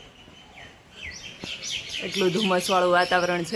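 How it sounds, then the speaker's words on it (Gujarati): Sparrows chirp and twitter in quick repeated calls on a cool, foggy morning, fairly close, while a person talks over them. "અને ચકલીઓનો કલરવ"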